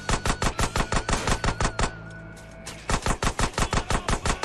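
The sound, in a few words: gunfire in video game GTA San Andreas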